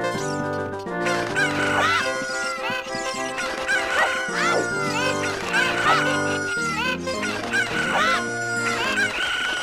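Cartoonish chickens cluck and squawk in The Legend of Zelda: Ocarina of Time, repeated chirpy bird calls layered over game music and sound effects, loud and busy throughout.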